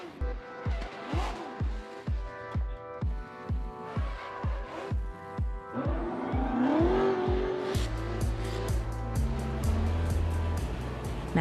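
A Formula Drift car drifting, its engine pulsing in a steady rhythm of revs and shifts, then rising into a sustained loud roar with tire squeal and whine building toward the end, close and without talk.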